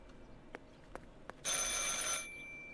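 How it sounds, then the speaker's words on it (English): A telephone rings in the video game Martha is Dead: one bright, buzzing electronic ring lasting under a second. It follows a few faint clicks and stands alone. "I should pick up the phone but remain silent"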